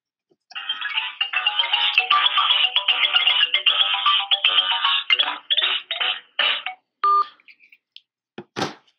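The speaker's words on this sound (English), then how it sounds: "I don't know if you can hear that vibration, but that is my cell phone" A cell phone sounds an incoming-call ringtone in a series of loud, bright electronic tone bursts that repeat in rapid pulses, then break into shorter, separated blips toward the end, heard alone in a quiet room.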